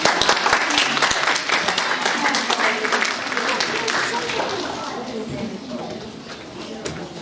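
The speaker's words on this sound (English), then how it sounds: "Let's give a quick round of applause for our chicken." An indoor audience at a dinosaur talk gives a round of applause for a live chicken, loud dense clapping that gradually fades over several seconds while a presenter speaks.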